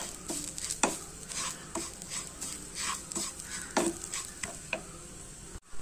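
Semolina and grated coconut roasting in a pan, stirred with repeated scraping strokes and light clinks over a faint sizzle, fairly quiet and without speech.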